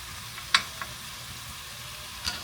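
Butter melting into hot grease in a pan for a budget steak dinner gives a soft, steady sizzle, broken by a couple of faint clicks of a utensil against the pan, with no talking.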